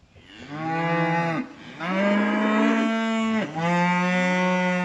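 Cattle on a farm moo three times in long, loud, drawn-out calls, each with a strong harmonic tone that swells and then drops away, close to the listener with no talking.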